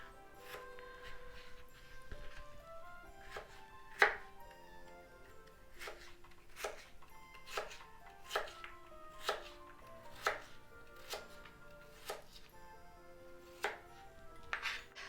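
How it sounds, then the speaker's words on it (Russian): A knife cuts steadily through firm potatoes on a board, cutting them into thin strips, regular crisp chops repeating about once a second with no talking. "Теперь нарежем картофель."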